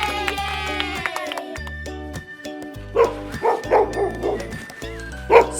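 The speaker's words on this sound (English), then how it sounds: "It's a sled dog." A sled dog barks and yips repeatedly in bursts over a bright, busy musical backing, the barks loud and close and coming in an uneven rhythm toward the end.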